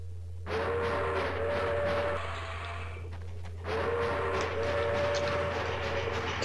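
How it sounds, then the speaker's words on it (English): A train rumbles along in the Sven Co-op video game, a steady mechanical drone with a tonal hum, broken by a short pause before the rolling noise resumes at the same level. "Avery, jump in the train."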